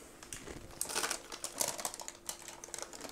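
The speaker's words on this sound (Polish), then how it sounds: "Czas zdjąć papier" Baking paper is peeled off a chilled, burnt keto Basque cheesecake, giving close, crinkly rustles and sharp crackling bursts in an irregular rhythm, with no talking.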